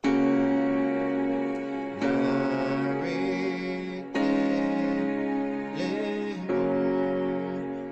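Piano chords from the worship song Nara sound as a slow beginner example, the left hand on five and the right on one, four sustained chords each struck cleanly and left to ring and decay.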